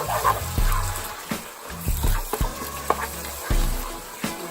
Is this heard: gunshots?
no